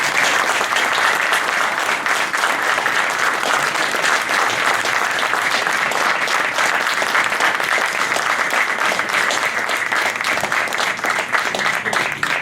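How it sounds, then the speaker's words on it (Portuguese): Sustained, loud applause fills a hall as an audience at a book launch claps for António Manuel Ribeiro, a dense, even roar of many hands lasting throughout without letup. "Para o António Manuel Ribeiro, um homem de ferro, eu peço a vossa salva de palmas."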